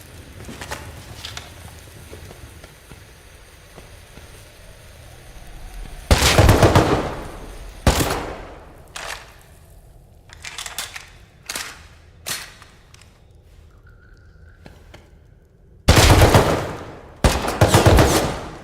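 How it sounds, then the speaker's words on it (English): Gunfire in Rust: a few sharp loud shot bursts rise out of quieter background game sounds. They come in two tight clusters near the start and again toward the end, with scattered smaller cracks between them. "He's literally shooting me through the boxes"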